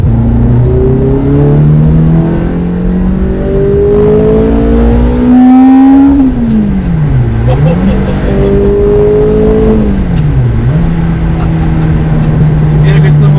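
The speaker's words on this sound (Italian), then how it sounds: "Sentire questo motore sopra gli 8000 giri e cambiare marcia col cambio manuale, wow." A Ferrari F430 with a six-speed manual gearbox revs hard above 8000 rpm, its loud, close engine note climbing in long sweeps and dipping sharply at two gear shifts.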